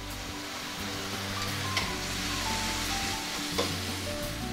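Beer poured into a hot pan of caramelized onions, bursting into a loud, steady sizzle that holds throughout, with a couple of faint clinks of a utensil and no talking.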